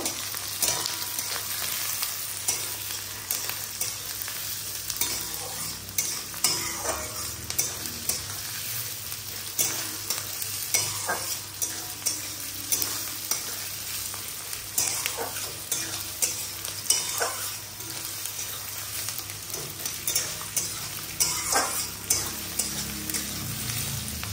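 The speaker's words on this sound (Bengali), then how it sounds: "পেঁয়াজটা একটু হালকা ব্রাউন করে ভেজে নেব।" Onions fry in a pan while being stirred toward light brown in a home kitchen. A steady, dense sizzle runs throughout, with a spoon scraping and clacking against the pan at irregular intervals.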